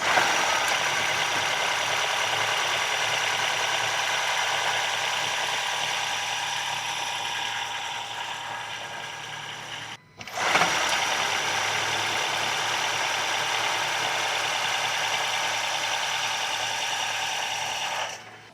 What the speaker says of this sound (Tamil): நம்ம ரிவ் பண்ணி பார்த்துருவோம்.